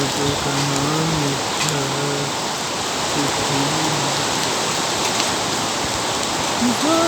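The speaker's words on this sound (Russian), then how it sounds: "дождь идет, ты слышишь, дождь идет" Heavy rain pours down in a steady, loud, dense hiss that continues without a break, with a voice speaking intermittently underneath.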